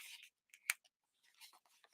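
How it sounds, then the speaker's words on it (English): Scissors snip through a paper card layer, trimming its edge to match the layer beneath; a few short, crisp cuts sound close and quiet, with one sharper snip in the middle and soft rustling of the paper between them. "You can use your trimmer or just use a pair of scissors, and you're going to cut these off"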